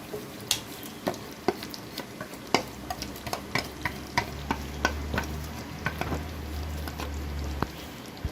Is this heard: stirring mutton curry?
yes